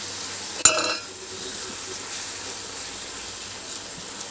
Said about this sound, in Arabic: هقلب بقى كده، قلب قلب قلب يا معلم